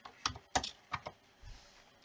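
A command being typed on a computer keyboard while setting up a Raspberry Pi, five crisp separate key taps close up followed by a faint soft thump, with no talking.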